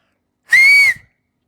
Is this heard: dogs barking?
no